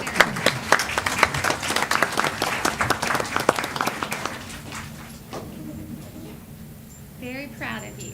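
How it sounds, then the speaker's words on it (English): Applause at a school board of education meeting, with many hands clapping densely and loudly for about five seconds before thinning out into scattered claps. A voice starts speaking near the end. "another round of applause"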